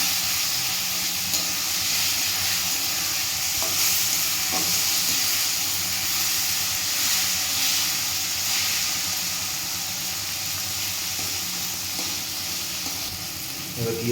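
Crab curry masala with ginger paste is stirred in a hot pan, giving a steady sizzle and frying hiss with faint scraping of the spoon underneath, close and continuous throughout.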